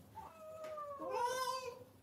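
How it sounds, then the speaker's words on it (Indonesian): Two cats meowing while waiting at a bathroom door, a short rising call followed by a longer, louder drawn-out meow, close by with no talking. "kalau kucing lagi pada nunggu di pintu kamar mandi"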